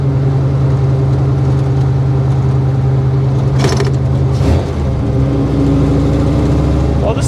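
A 1955 Chevy Nomad gasser with a stick shift drones steadily and loudly from inside the car on a test drive, its engine pitch shifting briefly mid-way as the revs change.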